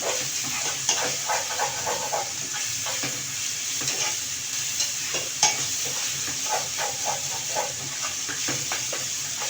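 Chopped tomato hits ginger and garlic sautéing in a pan, giving a hissing, steamy sizzle that runs steadily with repeated spatula stirs and small clicks.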